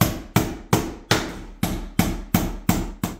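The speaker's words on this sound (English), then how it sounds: "Now I'm just going to finish it off by hammering in my longer finish nails." Steady hammer strikes, nine sharp blows evenly spaced and ringing briefly after each hit, driving 2.5-inch finish nails into trim, close by with no talking.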